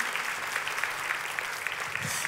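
A church congregation applauds, a brief burst of dense, steady clapping that stays loud and even for its whole length.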